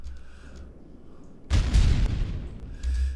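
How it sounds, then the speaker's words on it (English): A loud, booming explosion bursts suddenly and rumbles on, with a lighter rumble following near the end. "Now there's a few more explosions to go in there."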